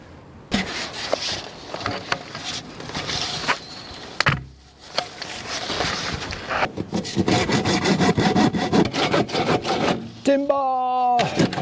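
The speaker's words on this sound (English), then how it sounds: "I'll go for the slightly flexy pipe, just cut a bit off, too long initially" A hand saw cuts through a slightly flexible plastic pipe outdoors, with rapid rasping strokes that grow steadier and louder toward the end, briefly interrupted, then a final creaking snap as the piece comes off.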